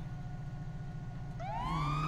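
A police car siren in the Southland Roleplay video game starts up partway through, a rising wail over a steady low engine drone, close and loud, with no talking.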